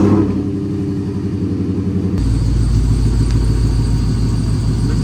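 A Chrysler 300C with an SRT bumper and DRL fog lights has its engine cranked, catching after about two seconds into a loud, close, steady rumbling idle that continues throughout.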